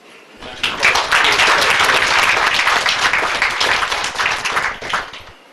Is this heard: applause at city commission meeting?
yes